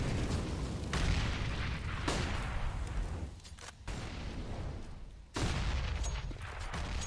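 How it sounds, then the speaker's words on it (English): Grenades go off in a Counter-Strike match on the Inferno map, a series of heavy booming blasts that overlap one another, loud and rolling, with brief lulls between bursts and no talk over them. "Loads of grenades."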